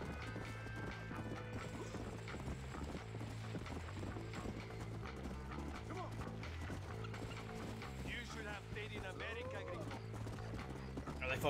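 A horse gallops in Red Dead Redemption with continuous rhythmic hoofbeats, creaking saddle and gear, and an occasional whinny, steady and close amid game sounds, with a voice talking over it at times.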